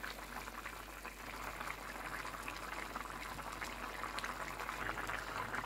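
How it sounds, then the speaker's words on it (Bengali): Egg curry simmers in a pot with a steady, close bubbling and gentle boiling hiss that continues without a break and without speech. "তো এটা একটুখানি ফুটুক"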